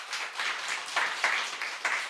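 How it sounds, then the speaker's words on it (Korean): An audience at a church gathering claps together in a steady, dense wash of applause with a few louder swells, with no one speaking over it. "이분들 박수해 주세요"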